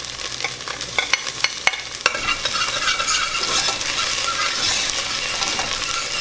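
Ginger and garlic hitting hot dry spices in a pan, a few sharp metallic clinks of spoon on pan at first, then a steady close sizzle of frying that carries on to the end.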